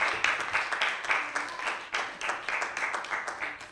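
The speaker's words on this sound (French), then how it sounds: "Est-ce qu'on peut les accueillir, s'il vous plaît, avec des applaudissements?" An audience applauds to welcome a team to the podium at a youth event in Port-Bouët, a steady mid-distance patter of many hands clapping with no voices over it.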